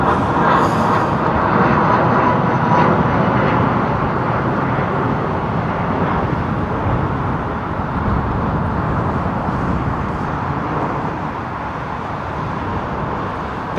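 A jet airliner takes off at London Heathrow Airport with a loud, sustained broadband engine roar that slowly fades as it climbs away.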